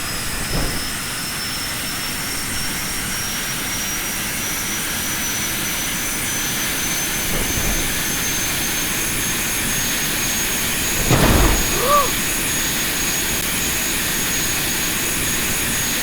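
A Mirage fighter jet's engine roars steadily in BeamNG.drive, a continuous high whine over a broad rushing hum, with a brief louder swell near the end and no voices.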